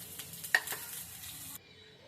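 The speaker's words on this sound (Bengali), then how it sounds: "ওই যে মাছগুলো ভাজা হচ্ছে" Fish rubbed with salt and turmeric frying in a pan at home, a steady close sizzle with a few sharp clatters as pieces go in, the sound dropping abruptly near the end.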